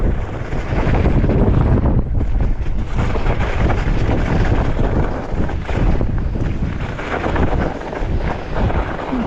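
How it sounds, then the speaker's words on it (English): Strong wind buffets the microphone on an icy mountain slope, making a loud, continuous, blustery roar that rises and falls without a break. "Almost blowing me over on this icy stuff. Crazy wind today."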